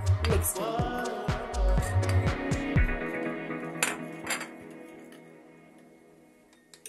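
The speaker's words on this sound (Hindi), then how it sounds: "और अब मैं इसमें लगभग 2 टीस्पून जो है वो कॉर्नफ्लोर ऐड करूंगी और अच्छे से मिक्स करूंगी" A spoon clinks against a bowl while cornflour is stirred into room-temperature milk for hot chocolate. A quick run of close, bright taps comes first, then a few scattered clinks ring out and fade.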